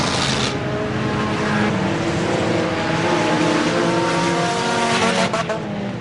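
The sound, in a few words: race cars on an enduro track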